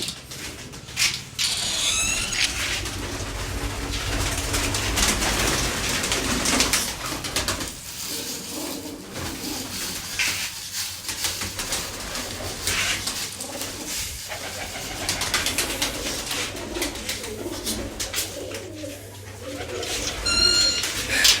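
Pigeons cooing in a loft, several birds giving repeated low throaty coos at close range over a continuous busy background with rustling and handling noise.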